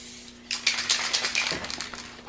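Aerosol spray paint can hissing onto a Mazda Miata in a series of short, close bursts, the bright airy spray rising and falling with brief pauses between passes, no voices heard.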